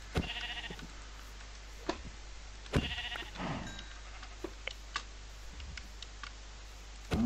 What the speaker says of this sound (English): Oh, finally, some sheep.